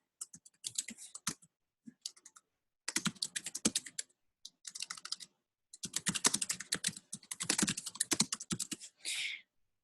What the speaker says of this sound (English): So you can type what you want in here